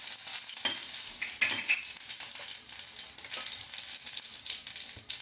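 Fenugreek, mustard seeds and cumin sizzle in hot oil for a curry leaf kulambu, a steady crackling hiss broken by a few louder pops and stirring scrapes, close and with no voices.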